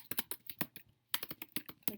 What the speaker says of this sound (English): Notice I'm typing what I'm doing, and then I'm going to do it.